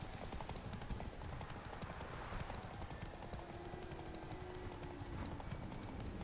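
A horse gallops in The Witcher 3, its hooves beating a rapid, continuous clip-clop rhythm throughout, loud and close, with game ambience beneath and no clear talking.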